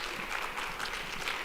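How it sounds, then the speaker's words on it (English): Audience applause at a college convocation, a steady wash of clapping filling the whole moment with no voices over it. "Let's give a last round of applause for our speaker today."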